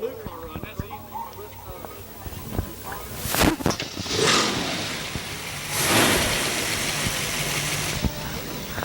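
A hot rod car engine at a 2013 hot rod gathering cranks and fires up, then settles into a steady idle, close by under ongoing crowd chatter and people talking.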